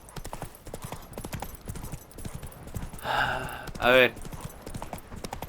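Roach, a horse in The Witcher 3, gallops with rapid rhythmic clip-clop hoofbeats under game dialogue, joined by a brief whinny near the end; a voice speaks over it.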